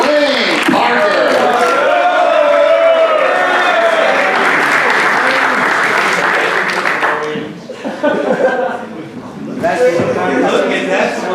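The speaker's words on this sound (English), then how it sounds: "you better clap" An audience claps at a baseball ring ceremony, with loud, steady applause and some laughter, briefly dipping before rising again as voices carry over the crowd.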